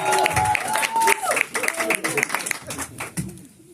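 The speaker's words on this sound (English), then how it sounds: "would you please put your hands together for Devon McFadden?" Audience applause for a performer at a book release event at a studio, scattered hand claps mixed with cheers and voices over a lively crowd, ragged and fading toward the end.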